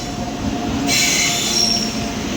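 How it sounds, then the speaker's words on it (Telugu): An MGR Chennai Central superfast express train with LHB coaches thunders past close by, a steady heavy rumble with a high metallic squeal of wheels joining partway through. "అదిగో మన Chennai central super fast express"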